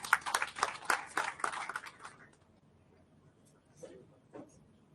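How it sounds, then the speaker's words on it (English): Audience applause at a Berom symposium, a dense burst of clapping that fills the first two seconds and then dies away into quiet with a few faint scattered sounds. "A round of applause for her, please."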